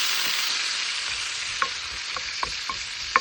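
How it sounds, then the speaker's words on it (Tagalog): Mushroom and potato sizzle steadily on a grill pan, a continuous hiss punctuated by a few small pops and crackles, with no voices. "Grill pa rin natin yung ating mushroom."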